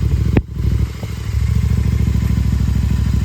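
A motorcycle that has sat unused for two days is wheeled out and started: a short clatter and thump, then a close, loud engine settling into a steady, throbbing idle.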